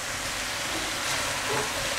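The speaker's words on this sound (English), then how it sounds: "just gently mix those vegetables and the rice through" Pre-cooked rice and vegetables stirred and tossed in a hot frying pan for masala rice, giving a steady close sizzle with soft scraping and shuffling throughout.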